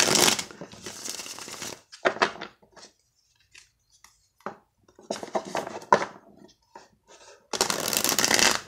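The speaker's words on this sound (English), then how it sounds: "this obnoxious sound of shuffling" Tarot cards are shuffled on a hard altar surface in loud, crisp bursts of riffling and clattering, separated by quieter pauses and lighter taps.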